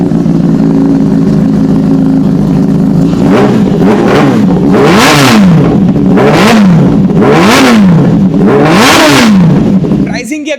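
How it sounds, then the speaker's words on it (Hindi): A Kawasaki Ninja ZX-10R superbike engine revs up hard several times in a row, each rising whine peaking loud and close, then settling back between bursts. "साउंड चेक करते हैं ZX 10R का।"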